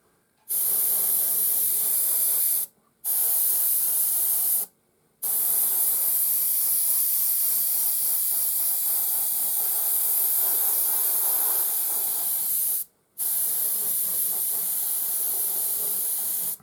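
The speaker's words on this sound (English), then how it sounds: "So put a nice even coat on here with the airbrush." An airbrush sprays paint onto a model in short, steady hissing bursts, stopping briefly a few times between passes, close and loud with no talk.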